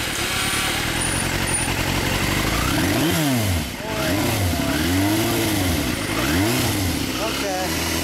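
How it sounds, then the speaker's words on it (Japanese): A stock 1988 Yamaha FZR400R motorcycle engine runs loud and close, idling and then revved in several rising-and-falling bursts. "エンジン音聞かせてもらえる？"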